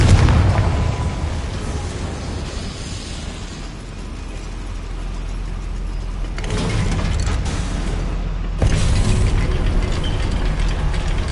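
Confringo fire-blasting spell explosions from the game Hogwarts Legacy: loud, rumbling blasts over constant heavy low-end noise, with sudden surges near the middle and toward the end.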